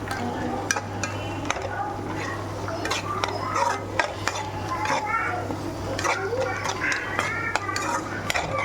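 Masala for crab gravy sautéed in a pan, with a spoon scraping and clinking against the metal in a busy repeating rhythm under a steady low hum, while children's voices carry faintly in the background.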